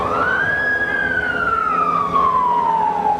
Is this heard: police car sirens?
yes